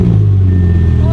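A twin-turbo Audi R8 fitted with a new custom titanium exhaust rumbles loudly close by with a deep, steady idle, and a faint rising whine comes through.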